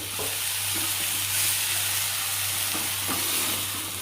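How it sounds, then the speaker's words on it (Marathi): Spice masala for a Malvani bangda (mackerel) dish roasting in a pan, a steady soft sizzle running throughout with a few faint scrapes of stirring, close and moderately loud, no talking. "हे जो आपण मसाला तयार करून घेतला ना चांगलं भाजून घेऊया"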